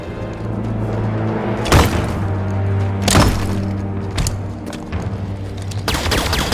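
A shield generator in the Halo 5: Guardians campaign is shot and destroyed: several sharp booming blasts and bursts of gunfire punch through a steady, droning in-game hum.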